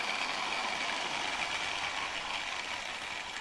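Bachmann LNER B1 model locomotive in weathered BR black with a previously rough-running motor, a steady faint whirring hiss that stays even throughout, with no voices.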